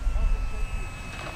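FMS P-47 Razorback RC model warplane, 1500 mm scale, buzzing steadily at about half power with full flaps on a touch-and-go pass, a continuous close engine drone over wind noise.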